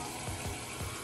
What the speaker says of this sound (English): So we're just gonna fill our pot with water.